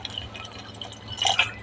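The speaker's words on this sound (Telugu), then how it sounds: "వాటర్ వేసేసుకుందాం తగినన్ని" Water is poured into a pot of boti curry, a soft, faint trickle and splash with a brief louder burst near the end.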